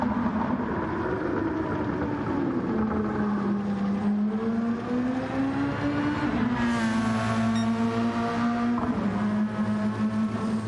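An LMP1 prototype race car at Le Mans revs its engine hard, the pitch climbing and falling through repeated high-revving sweeps, loud and continuous with a sharp rise near the end and no talk.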